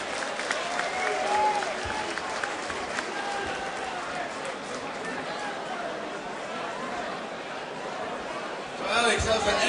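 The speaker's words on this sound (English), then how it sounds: "And a big round of applause for your runner-up tonight" Crowd applause and cheering at a UCC 1 fight night for runner-up Arturas Ziukas after his bout with Alex Minogue, a steady dense clapping throughout with talk over it and a louder burst near the end.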